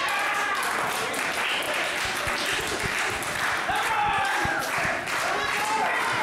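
A wrestling crowd at a Battleground pro wrestling event applauds and cheers in a dense, steady roar of clapping that fills the whole stretch without letting up.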